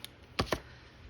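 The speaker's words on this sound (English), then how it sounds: "And I'm going to cut off the seam." Scissors cut the seam off a strip of lace trim with two quick, crisp snips close to the microphone, set against a quiet room.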